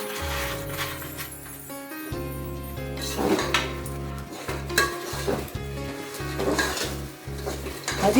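A spoon scrapes and clinks through thick adadiya pak mixture with fried gond in a pan on a gas flame, with repeated stirring strokes, metallic knocks and a low sizzle close by, and no talk.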